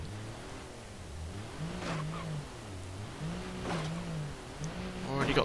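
Small 660cc turbocharged Ibishu Chisai engine in BeamNG.drive, its buzzy note rising and falling through repeated revs, with a turbo whoosh near the end; someone talks over it.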